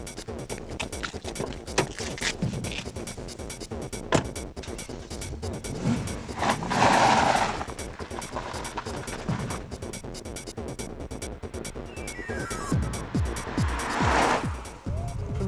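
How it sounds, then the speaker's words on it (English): A BMW M5's V8 engine rumbles while driving, surging in a few strong bursts of acceleration over a continuous low burble, with road and wind noise and little talk. "It's not exactly raucous, it's a very refined and sophisticated version of the usual V8 burble"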